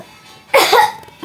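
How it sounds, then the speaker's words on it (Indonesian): A single close, sharp cough bursts out briefly after a quiet pause, with no talking around it. "Maaf, aku batuk."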